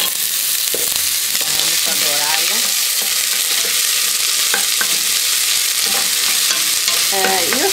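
Onion frying in hot oil gives a loud, dense, continuous sizzle, with occasional spatters and faint stirring clicks and no talk.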